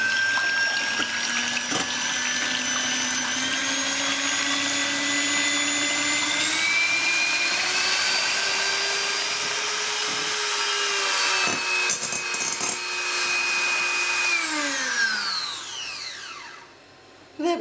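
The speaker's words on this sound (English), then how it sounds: "It's much easier to use an electric whisk, and you need to beat them until they form stiff peaks." Electric whisk beating egg whites to stiff peaks: a steady, close motor whine whose pitch climbs and shifts as the whites thicken, running without a break for about sixteen seconds before the beaters cut out near the end.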